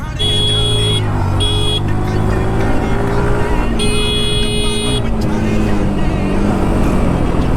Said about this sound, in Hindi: साउंड जो है गाड़ी का एकदम परफेक्ट हो गया है जैसा होना चाहिए।